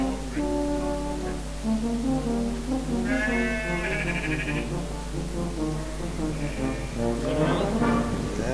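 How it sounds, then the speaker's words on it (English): Sheep bleat repeatedly in long wavering calls, several overlapping, loud against a steady low rumble, heard on a country ramble around Dent. "Noisy sheep in here."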